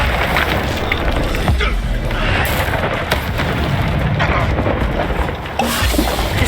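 Confringo fire spells blasting in Hogwarts Legacy, a run of loud booming bursts over a dense, continuous rumble of combat noise with no pauses.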